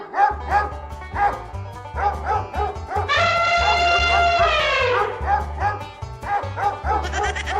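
Cartoon dogs bark in quick, repeated yaps over a steady low music bed, with a rising whistle-like squeal swelling in the middle before the barking carries on.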